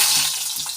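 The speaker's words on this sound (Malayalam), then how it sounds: "കടുക് പൊട്ടി" Mustard seeds spluttering in hot oil in a pan, a loud, close crackling sizzle with sharp popping bursts over less than a second, no voices.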